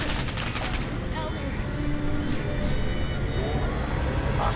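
A giant robot firing its guns in Fallout 4, heard as a loud, continuous rattling barrage with a sharp rapid burst at the start, then dense sustained fire and rumble.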